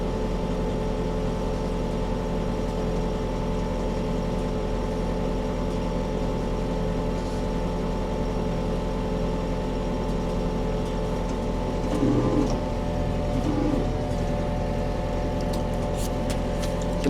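A tractor engine idles steadily for a long stretch after the revs are cut while hay baling, rumbling evenly, with a couple of brief bumps and clicks partway through.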